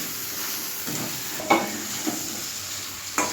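Crab is stirred with spices in a hot pan, a steady sizzle broken by a few scraping, knocking strokes of the spoon against the pan, with no voices.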